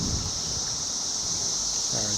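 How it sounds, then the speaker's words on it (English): Wind buffets the microphone outdoors near a barbecue grill, a constant blustery roar with a steady hiss throughout, briefly joined by a faint low sound at the end. "Sorry, it's a little windy outside."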